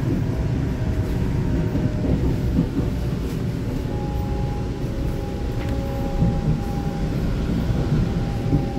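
An EMU900 electric multiple unit commuter train, a ten-car silver-green set on Taiwan's Yilan line, rolls slowly with a steady, loud rumble and a thin whining tone throughout, with no voices.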